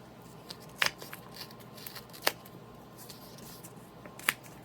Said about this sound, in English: I'm going to peel the ends